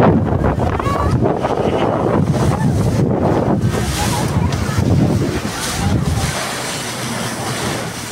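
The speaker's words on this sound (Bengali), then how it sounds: "এই পাশে ঢেউয়ের যেই ধাক্কাটা" Waves break along the shore at Chairman Ghat on Hatiya island at sunset, a steady loud wash of surf mixed with heavy wind buffeting the microphone, easing slightly in the last couple of seconds.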